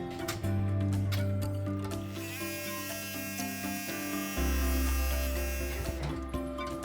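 A sewing machine motor hums steadily as it tacks a fabric lining onto a cat-themed oven mitt, a strong continuous buzz with a brief shift in pitch partway through.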